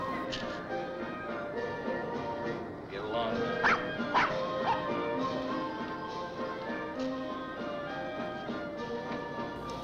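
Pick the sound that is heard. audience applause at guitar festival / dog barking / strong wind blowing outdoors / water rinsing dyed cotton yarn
dog barking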